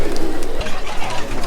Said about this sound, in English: Look at all these pigeons.